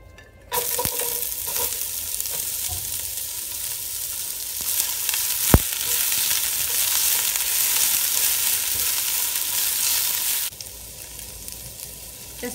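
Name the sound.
onion frying in oil in a pan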